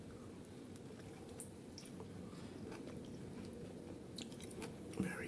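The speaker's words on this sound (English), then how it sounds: "So now I have to taste my slice of orange." A juicy slice of orange being chewed, faint close wet munching and squishing with soft drips, quiet and steady, louder at the end, no talk.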